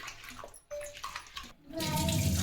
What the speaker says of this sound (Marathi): उडीद डाळ चांगली स्वच्छ चोळून धुवून घ्यायची